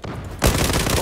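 Burst of gunfire in the first-person shooter Zula, erupting suddenly after a quieter stretch and continuing as dense, loud rapid shots close by.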